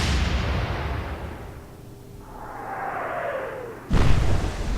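Naval guns fire at the German ship Graf Spee in the naval battle game Atlantic Fleet: a rushing whoosh swells and fades, then one loud, abrupt blast lands near the end.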